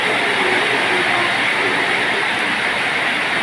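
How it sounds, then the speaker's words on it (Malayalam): Heavy rain pours down steadily as a dense, continuous wash of noise, loud and unbroken, with no talking. "നല്ല മഴ പെയ്യുന്നുണ്ട്"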